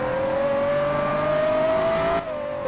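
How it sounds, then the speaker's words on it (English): A V12 car accelerating flat out on a straight road in a video game during a top speed run, its engine note climbing steadily and loud, then dipping briefly near the end. "Oh, this V12 sounds incredible."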